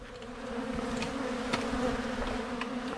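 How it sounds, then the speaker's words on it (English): Bees swarm close around pollen substitute set out near pine-needle floats in a 5-gallon bucket, making a steady, dense buzzing drone that holds throughout with no talking. "But look at them here hitting this already."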